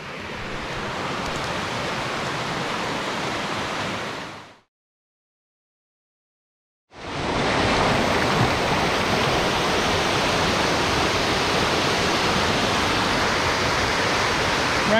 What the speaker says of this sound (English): Brand new fall right there